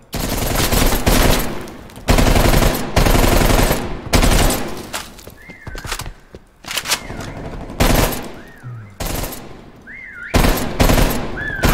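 Bursts of automatic gunfire from the player's own weapon in a first-person shooter, loud and close, firing in several sustained volleys with short gaps and a few whistling tones in between.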